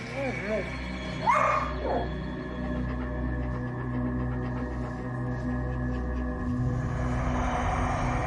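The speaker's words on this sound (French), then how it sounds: "Les chiens se tenaient au bas de l'escalier et fixaient quelque chose qu'on ne voyait pas." Dogs whimper and yip at the foot of a staircase, a few short whining cries early on, then a low steady drone fills the rest while a voice speaks.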